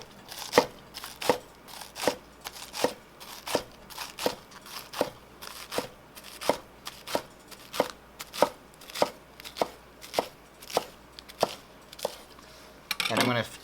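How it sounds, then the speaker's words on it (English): Romaine lettuce chopped with a knife on a cutting board for a black bean vegan salad: a steady run of about twenty crisp, close chops in an even rhythm, ending in a brief rustle. "So first thing we're gonna do is we're gonna chop our greens, our romaine."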